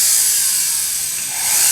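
A high, steady whirring hiss of a small flex shaft sanding wheel grinding against a metal earring back plate, continuous and close.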